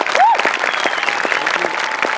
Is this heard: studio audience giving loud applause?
yes